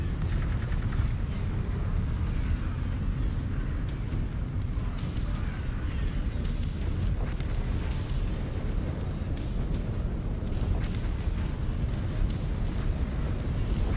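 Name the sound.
orbital cannon explosions hitting target in MechWarrior 5 video game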